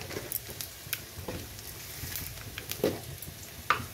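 Black cumin seeds temper in hot oil, giving a quiet, steady sizzle with light crackles and scattered pops over a few seconds.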